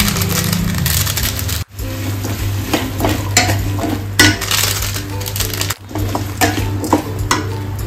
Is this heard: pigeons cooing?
no